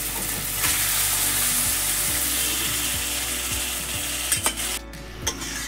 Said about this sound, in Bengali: বেগুন আর পেঁয়াজ কলি দিয়ে একটু নেড়ে চেড়ে নিলাম।